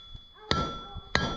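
A blacksmith hammers hot iron scrollwork on the edge of an anvil: two loud, ringing metallic clangs about half a second apart, each with a bright lingering tone, close to the listener.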